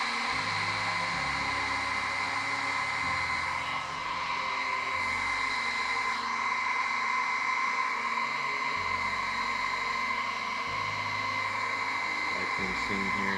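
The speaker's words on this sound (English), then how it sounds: "use the blow dryer" A blow dryer blows steadily close by while drying alcohol ink artwork, a continuous loud whooshing whine that holds unbroken throughout.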